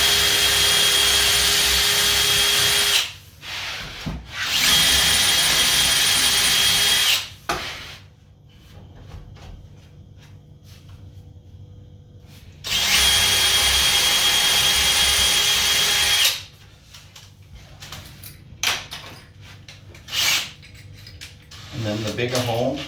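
A power drill bores holes in an IKEA cabinet panel, whining loudly in two sustained bursts of several seconds each, with quieter handling and workshop noise between them.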